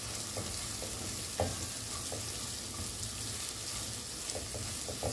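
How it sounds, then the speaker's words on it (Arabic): Onion slices and sausage sizzle steadily in a hot pan, a close, continuous fry with a few soft knocks of a utensil stirring them together. "ننزل بقى بشرايح البصل على السوسيس ونقلبهم كده كويس مع بعض لحد ما البصل يبدأ يدبل معانا"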